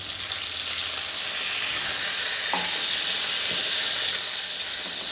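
A steady sizzling hiss as about two tablespoons of water hit a hot spice tempering in a pan, swelling briefly louder partway through and continuing bubbling without any talk.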